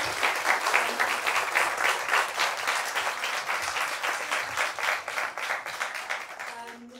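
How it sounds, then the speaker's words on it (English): Audience applause for a panel at a discussion event, a dense round of many hands clapping that holds steady, then fades out near the end as a voice begins to speak. "I'm going to say thank you to our amazing panel with a round of applause for their"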